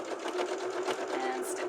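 Sewing machine stitching a piped pillow seam, a short, close, steady run of fast needle hum and chatter.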